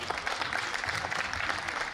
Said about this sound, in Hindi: ताली बजाइए, मैं अपना काम लगाता हूं।